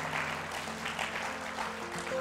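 A worship congregation claps hands together in a dense, sustained round of applause, filling a large room at moderate volume for a couple of seconds.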